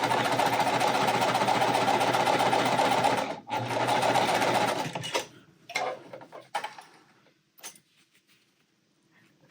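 A sewing machine stitches quilt fabric pieces in a loud, steady close-up whir that runs without pause, then cuts off, leaving a few quiet handling clicks and rustles.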